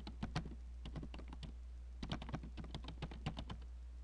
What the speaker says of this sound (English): we're going to type our Diamante right down the center of our paper